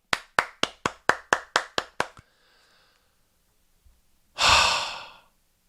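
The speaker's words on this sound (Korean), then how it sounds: "박수 한번 합시다, 주님께." A church congregation claps in a quick run of about nine sharp, evenly spaced claps, followed by near silence and then a loud burst of breathy crowd noise.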